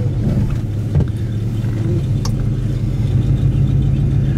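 A 1955 Studebaker Commander Regal four-door sedan, pink and white, rumbles along on the road with a steady, loud low engine drone and road noise, without a break and with no talk.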